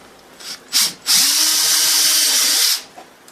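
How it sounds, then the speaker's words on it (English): A power drill drilling a pilot hole for a door lock installation gives a short burst, then spins up into a loud, steady whine that holds for a couple of seconds before stopping. "I'm just starting with a pilot hole, and then I'm going to work my way up."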